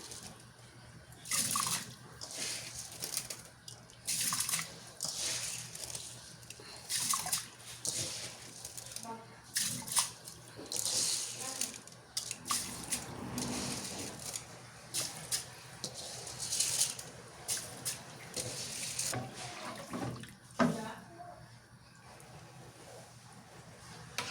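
Sunda keerai greens and rice being washed by hand in water, with steady splashing, dripping and patter close by and fairly continuous throughout, under light kitchen background noise.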